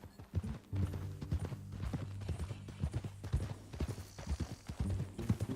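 Steady clip-clop of horse hooves on hard ground in the video game Red Dead Redemption 2, an even walking rhythm with faint tonal background, no talking.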